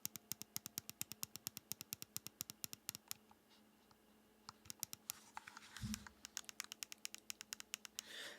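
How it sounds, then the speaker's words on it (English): Rapid sharp clicks of the bumper buttons on a Retroid Pocket 5 handheld being pressed, close and crisp in quick regular runs, with a brief pause and a muffled handling thud midway. "these are your typical clicky bumpers"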